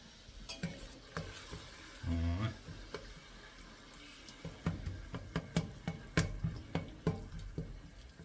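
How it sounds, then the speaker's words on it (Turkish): Celery cooking in a pan with garlic, giving a soft sizzle with a brief burst of louder frying and a run of clattering stirring taps, no voices. "Kereviz pişiyor hala. Daha kereviz pişiyor."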